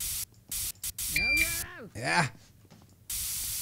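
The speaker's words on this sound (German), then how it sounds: "Ich habe einen Sprühdosenverbrauch, das ist schon nicht mehr feierlich." Several short hissing bursts of an air freshener spray can in an internet cafe simulator video game, separated by pauses, with someone speaking briefly in between.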